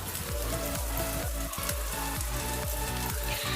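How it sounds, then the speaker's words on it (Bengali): Ginger garlic paste masala frying in hot oil, a steady dense sizzle up close, with repeated rhythmic scraping strokes of stirring throughout. "মশলাটা ফ্রাই করে নাও।"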